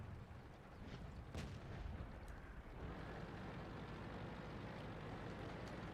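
A tank gun fires a blind shot during a World of Tanks battle. One dull boom goes off against a constant rumbling engine and battlefield backdrop, with no talk.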